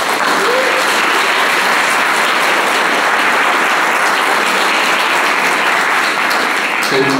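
An audience at a downtown clean and safe strategy information session applauds volunteers and workers, a loud, sustained wash of clapping that holds steady for several seconds.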